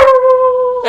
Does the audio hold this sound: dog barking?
yes